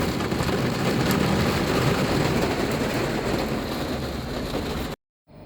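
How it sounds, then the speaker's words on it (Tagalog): Heavy rain pours down as a dense, steady roar of rainfall that stays loud and constant throughout, then cuts off abruptly near the end. "lakas ng ulan mga paps."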